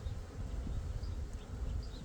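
Honey bees buzz in a low, steady hum that continues throughout, moderately faint with no talking.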